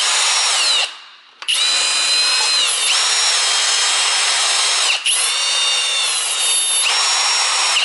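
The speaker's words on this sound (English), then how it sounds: "Hammer drill mode." A loud, continuous whine of a power drill running in hammer drill mode, with a brief pause and restart, then pitch shifts as it bores steadily.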